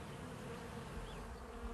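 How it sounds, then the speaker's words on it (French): Bees buzz in a lavender field in Vaucluse, a faint, steady insect hum holding evenly throughout with no voices. "ce matin, on entend juste les abeilles pour troubler le silence."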